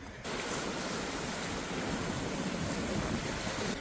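Sea waves on the coast at Neapolis, a steady broad wash of surf with some wind noise, continuous and fairly loud with no voices.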